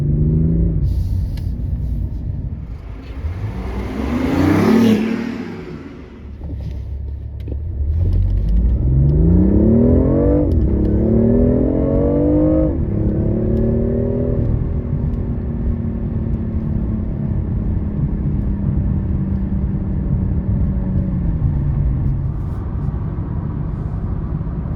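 A 2019 BMW i8 Roadster in sport mode accelerates hard. Its engine note rises through several gears with clear shifts, then settles into a steady drone at speed, loud and close with no talking.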